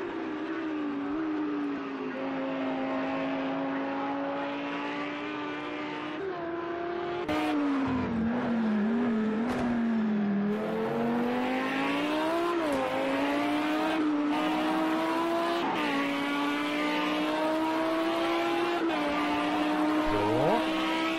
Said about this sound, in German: Wir hören mal dem Audi zu, der ist ja ein bisschen lauter.